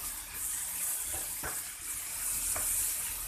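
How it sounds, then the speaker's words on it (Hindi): A tablespoon of garlic-ginger paste fries in a clay handi in village cooking, giving a steady bright sizzle with a few sharp stirring clicks and scrapes, close and moderately loud, with no talking. "और अब मैं इसमें ऐड करूँगी ये 1 टेबल स्पून भर के लहसुन अदरक का पेस्ट। अब इसको भून लेंगे अच्छी तरह।"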